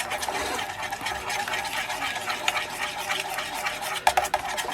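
Steady wet stirring and scraping as an egg is mixed into banana cake batter in a bowl aboard a narrowboat, continuous and close, with a couple of sharper clinks near the end.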